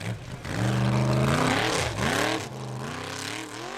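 A Formula Offroad race car at full throttle at the Hella round in Iceland: a loud, close engine roaring and revving, its pitch swooping up and down as the driver backs off and pushes again.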